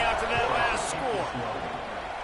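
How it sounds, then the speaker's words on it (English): A football stadium crowd buzzes steadily after a score, a dense, loud roar of many voices with a broadcast voice running on top throughout. "this crowd is buzzing after that last score"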